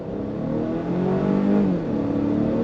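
A 2025 Volvo XC60 with an 8-speed automatic accelerating on throttle from a stop, heard from inside the cabin as a steady engine hum rising in pitch, with one shift partway through.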